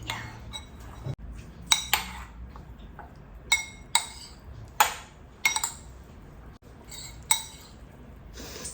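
Fermented food being mixed with kasundi mustard sauce in a dish, heard as sharp clinks and scrapes of cutlery against the dish, close and irregular, with quiet pauses between strikes.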